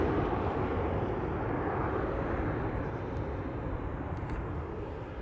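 KLM airliner taking off from Amsterdam Schiphol bound for Istanbul, a steady loud roar of jet engines filling the whole stretch, easing slightly toward the end.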